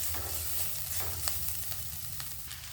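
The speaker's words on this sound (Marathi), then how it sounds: "आता याच्यामध्ये आपल्याला बटाटा टाकायचा आहे" Potatoes fry in a spice paste with turmeric for a spicy vada rassa curry, a steady close sizzle with light stirring clicks and no voices.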